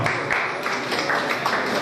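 Indoor audience at a college programme applauds a volunteer, a dense steady burst of clapping from many hands that lasts throughout.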